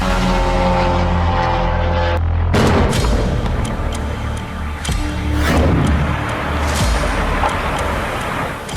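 A loud, sustained blast from a Ukrainian drone strike on a railway station in Rostov, Russia, with a sudden onset, followed by a dense, roaring rumble that stays heavy throughout.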